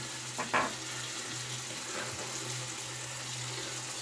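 A tap runs steadily with a soft, even rush of water, and a brief splash or clink near the start.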